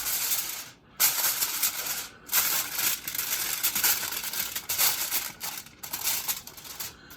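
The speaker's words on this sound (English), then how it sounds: "Cover with foil." Aluminum foil is pulled and crinkled over a baking dish of chicken, sausage and brown rice, making a loud, close, continuous crackling rustle with brief pauses as the sheet is handled.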